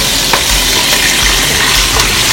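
Chopped white onions go into hot oil for a curry and fry with a loud, steady, close crackling sizzle.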